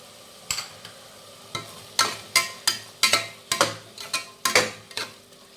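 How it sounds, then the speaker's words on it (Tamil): A spoon stirs tomato masala with salt, turmeric and green chillies in a pan, making a series of about a dozen sharp scraping strokes in an uneven rhythm over a quiet background. "உப்பு ஆட் பண்ணிவிட்டு ஒரு கிண்டி விட்டுருங்க"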